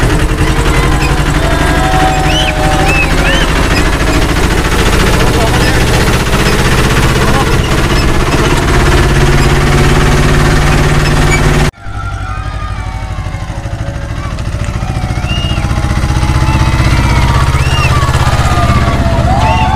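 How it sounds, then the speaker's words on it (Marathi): A tractor engine runs loudly and steadily on a tractor ride, a constant close rumble with heavy low-end drone that briefly dips before resuming. "तर आपण आता बसलेलो आहे ट्रॅक्टर राईडमध्ये."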